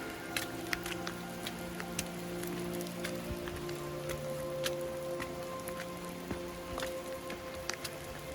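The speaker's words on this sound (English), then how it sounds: "The rain has become quite heavy." Heavy rain falls on a mountain trail at Marmot Pass, a soft steady patter of drops with scattered sharper taps over a low continuous hum.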